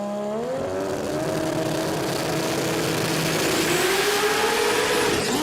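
A drag race car at a street-performance import racing meet revs hard and launches, its engine note climbing and screaming into a loud, sustained roar with a roaring crowd-like wash behind it.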